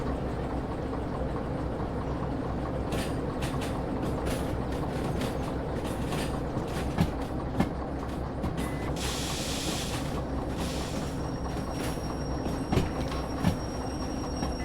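A train rolls steadily in the Derail Valley simulator, a continuous loud rumble of wheels and wagons with hissing air and occasional brief clanks and faint wheel squeals.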